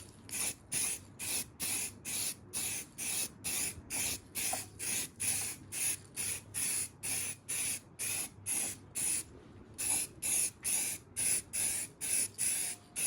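Spray can or spray gun coating the back side of a BMW E36 328i subframe, with repeated short bursts of hissing spray separated by brief pauses, close and loud.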